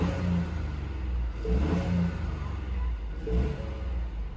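The 1.5-litre EcoBoost engine of a 2021 Ford Bronco Sport base model idles with a low hum, then rises in two short revs before settling back each time, heard close with no talking.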